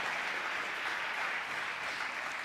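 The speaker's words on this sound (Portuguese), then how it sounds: "Dá um aplauso a Jesus aí." A church congregation breaks into steady applause during a worship service, with many hands clapping in a dense, even wash that sounds a little distant and keeps going without a break.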